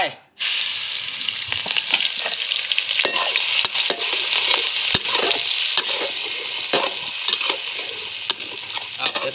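Market-bought curry paste is stir-fried with chopped chillies in a pan for a wild boar stir-fry, a loud continuous sizzle and crackle with scraping stirs throughout, up close.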